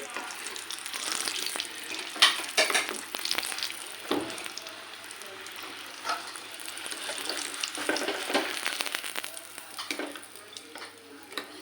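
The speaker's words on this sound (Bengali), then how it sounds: "এখানে আমি কয়টা সমোসাও ভেজে নিচ্ছি" Chicken samosas fry in a pan with a busy, crackling sizzle and repeated scraping strokes, close and fairly loud and continuing without pause, with no voice.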